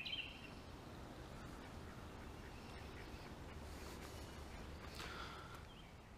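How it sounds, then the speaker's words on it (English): Ducks and chickens squabble among Austrian winter pea plants, with faint quacks at the start and again near the end over a steady low background hiss. "Chickens and ducks fighting."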